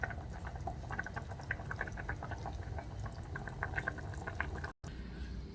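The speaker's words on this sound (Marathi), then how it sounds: "बघा आता ह्याला उकळी येणार आहे" Thick drumstick vegetable curry bubbles and pops at a steady simmer as it comes to a boil, close and soft, with small irregular blips throughout and a brief dropout near the end.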